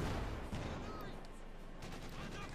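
Distant rattling gunfire from a T-70 tank's machine gun and main gun in the Company of Heroes 2 video game, dense bursts of shots under a faint battle din.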